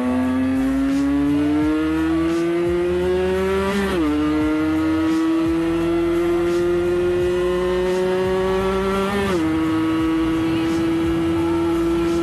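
Two-stroke moped engine buzzing loudly and steadily, its pitch climbing under load then dropping sharply twice as gears change, close up with wind and road noise throughout.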